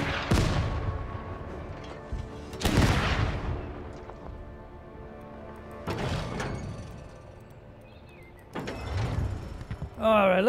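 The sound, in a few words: mortar firing in video game Total Tank Generals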